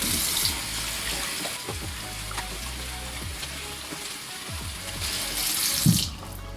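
Tap water runs steadily for several seconds while shampoo is rinsed out, a continuous close splashing hiss with a brief louder gush near the end.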